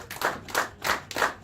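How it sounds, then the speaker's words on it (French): A church congregation claps in four rhythmic bursts spaced about evenly apart, near and fairly loud, with no voices over it. "Tu peux encore applaudir pour toi-même."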